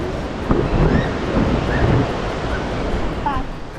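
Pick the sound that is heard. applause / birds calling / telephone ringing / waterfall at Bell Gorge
waterfall at Bell Gorge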